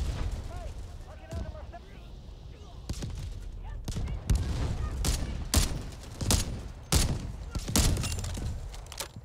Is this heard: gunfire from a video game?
yes